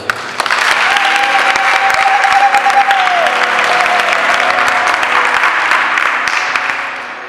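A church congregation applauds and cheers to acclaim Jesus during a sermon on the Ten Commandments, loud sustained clapping from a full crowd with a voice rising over it before the applause fades at the end.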